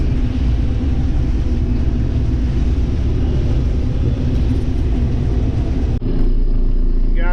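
A combine harvester travelling down a road, a loud steady engine rumble and drone close by throughout, with a brief dip and shift in tone near the end.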